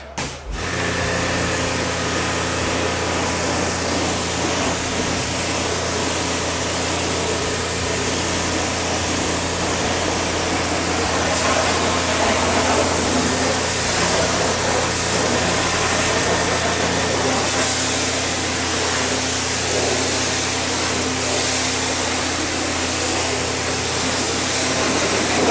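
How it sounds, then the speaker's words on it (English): Water spray rinses a car wheel ahead of a Gtechniq C5 ceramic coating: a steady, loud, close hiss with a low motor-like hum beneath it, running unbroken throughout with no talking. "now we're gonna rinse off our product."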